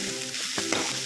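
Onions with turmeric are stirred in a hot frying pan: a spatula scrapes and turns them over a close, constant sizzle, with a couple of quick scraping strokes and no talking.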